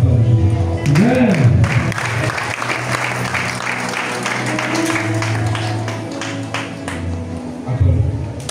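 A church congregation applauds through a prophecy service, steady dense clapping filling the room while a voice speaks or chants over it, swelling again near the end.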